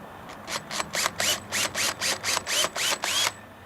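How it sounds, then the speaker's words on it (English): A power drill pre-drills a screw hole for a motorized sun shade's side track, running in about ten short, evenly spaced bursts close up, each whirring briefly before stopping. "go ahead and pre-drill your first hole"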